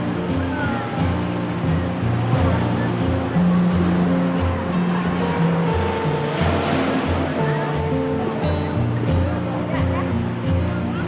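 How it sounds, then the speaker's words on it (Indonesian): Ocean waves roll and wash continuously onto a beach in a steady roar during a release of olive ridley turtle hatchlings, with voices talking underneath and some low engine-like rumble in the background. "Nah nanti ombak datang, penyunya terbawa ombak"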